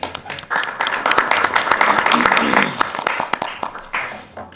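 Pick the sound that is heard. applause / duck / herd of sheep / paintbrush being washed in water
applause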